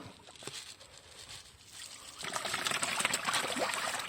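Catfish kept in a large water jar splash and churn at the surface as they scramble for food, the wet trickling and splashing growing louder and busier in the second half.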